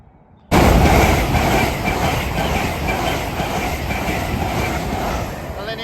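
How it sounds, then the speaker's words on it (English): An LNER passenger train roars through a station after a quiet start, a loud close rush of wheels and rail noise sustained to the end with faint rhythmic clatter. "Passing through now is a LNER service off to London King's Cross."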